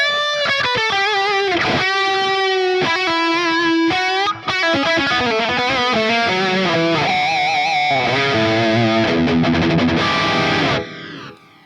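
Distorted electric guitar lead tone from a Quad Cortex amp modeler plays a loud, sustained melodic phrase with held bends and fast runs, continuous and alone before stopping abruptly near the end.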